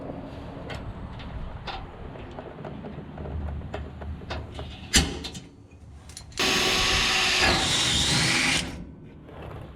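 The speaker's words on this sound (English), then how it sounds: "I'm gonna punch it and drill it from the inside" A power drill bores a hole through a metal frame for a car shifter linkage, with scattered clicks and handling knocks, then a loud steady whine of the drill running for about two seconds before stopping.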